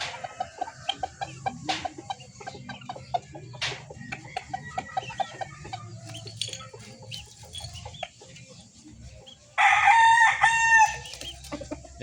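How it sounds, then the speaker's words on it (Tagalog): A Golden Boy x Boston gamefowl rooster gives scattered near clucks and calls, then one loud, full crow near the end, heard alone without talk. "Ayan, guwapong manok."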